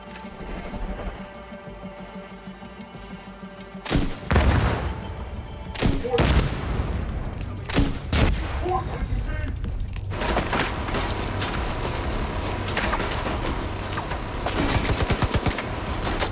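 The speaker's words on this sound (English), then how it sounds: "There'll be no hiding the gunfire." Gunfire rings out during a fight in the shooter game The Division 2, at an invaded stronghold on Roosevelt Island. After a quieter opening, bursts of automatic fire and single shots crack repeatedly and densely, with booming impacts mixed in.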